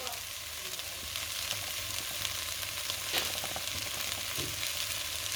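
Sweet potato curry seasoned with curry powder fries in a pan, giving a steady close sizzle with light scraping and stirring throughout, and no talk.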